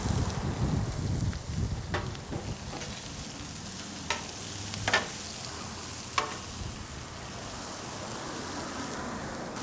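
Soft onions and carne with cattleman's seasoning hiss steadily on a griddle at medium-high heat, a continuous close sizzle broken by a few sharp spatula clicks and scrapes, with no talking.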